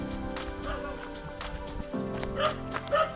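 A dog barks repeatedly in a steady series of sharp barks, somewhat distant, over a constant humming background.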